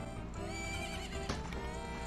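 A horse neighs with a loud, harmonic whinny in a Zelda game during a ranch horse race, with a brief thump of hooves partway through the two-second call.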